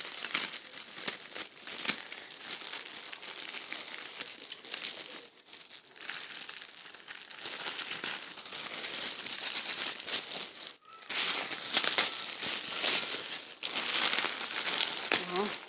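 Wrapping on a New Year work gift crinkling and rustling continuously as it is torn open and unwrapped, close and busy with repeated sharp crackles.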